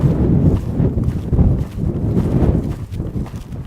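A horse moving in a round corral, hooves thudding on soft ground in a steady rolling rhythm as it shifts from walk into canter, close and fairly loud with no talking.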